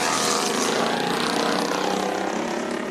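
Race car engines at Bakersfield Speedway during heat races, a loud, dense, continuous roar filling the whole clip with no pauses and no voices.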